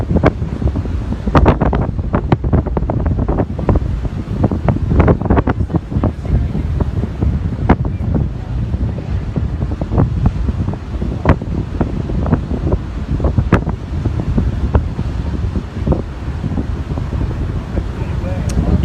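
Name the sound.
strong wind at high tide on Ortley Beach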